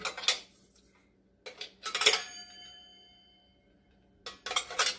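A metal lid comes off a coffee percolator, making a few close clinks and clatters, one of them leaving a short metallic ring, with quiet gaps between them.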